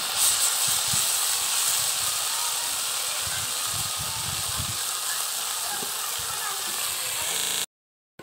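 Steady steam hissing from a cooking pot of Indian pea curry (matar saloni) as its lid is lifted, a broad continuous hiss lasting several seconds with faint low clatter beneath, then cutting off abruptly.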